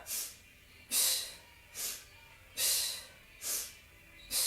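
Rapid alternating sniffs and blown exhales in a quick steady rhythm, close and airy, six bursts in a row from an instructor leading a faster pace in an at-home core Pilates workout.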